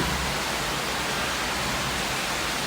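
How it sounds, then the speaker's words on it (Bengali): Heavy summer rain falls in a dense, even, continuous hiss that stays constant throughout, with no voices. "এই যে প্রচুর বৃষ্টি হচ্ছে"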